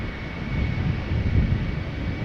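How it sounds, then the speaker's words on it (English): A Delta Airbus A330 airliner departs Amsterdam Schiphol Airport, its engines giving a steady, loud broadband roar that swells slightly without pause. "Delta A330, of course."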